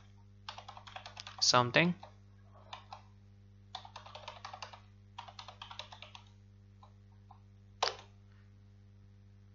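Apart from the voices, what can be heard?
typing a password on a computer keyboard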